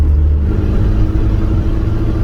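A 55-year-old Austin 1100 car accelerating on the road, its mid-pitched engine a steady, close, continuous rumble that holds evenly throughout with no voices.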